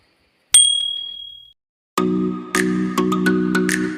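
Subscribe-bell notification sound effect: a single bright bell ding that rings out and fades, then after a short gap a sustained chiming tone with several repeated struck accents, loud and alone.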